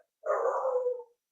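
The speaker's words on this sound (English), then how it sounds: "I was gonna say that's a mutt bark if I ever heard one." A single bark from a mixed-breed dog, one short full-bodied woof, close and clear against silence.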